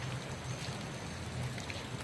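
Floodwater rushes in a steady, broad wash of noise, like a swollen river flowing nearby at Kolad after very heavy rain, with no voices.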